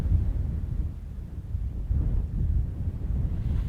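Steady, cold fall wind on the prairie buffets the microphone in low, rumbling gusts that swell and ease, with no other sounds standing out.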